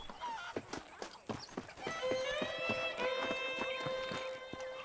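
Horse hooves in the video game Red Dead Redemption, a steady run of sharp clip-clops close by, with a horse whinnying partway through and a faint voice underneath.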